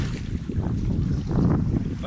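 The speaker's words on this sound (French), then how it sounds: "il y a un petit peu de vent" Steady wind gusting across a calm beach, a continuous low rushing roar that rises slightly midway, with no distinct waves and no voices.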